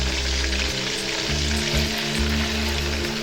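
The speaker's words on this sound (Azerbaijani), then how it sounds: "və qovurmağa başlayıram" A steady, loud sizzle of coarse dough crumbs frying in a hot pan, continuous throughout with faint stirring underneath.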